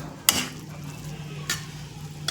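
Spoon stirring and scraping sweet modak filling in a pan over a low flame, with three distinct scrapes spaced across a soft, steady background of low sizzle.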